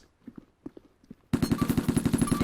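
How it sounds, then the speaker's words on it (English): Rapid ARMA 2 gunfire aimed at helicopter rotors: a few quiet thuds, then a sudden loud burst of evenly spaced automatic shots, about a dozen in quick succession, close and sharp. "Just shooting the rotors,"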